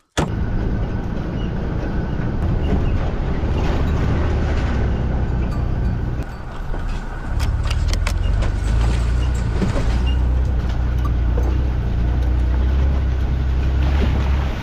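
A vehicle drives along a muddy rural track, its loud, steady engine drone and rumble running close throughout, with a brief dip partway through before it resumes.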